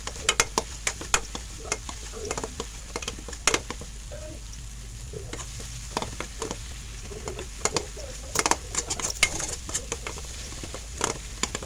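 Egg and tomato stirred in a frying pan give a low steady sizzle broken by frequent sharp scrapes and taps of a spatula against the pan, close and irregular.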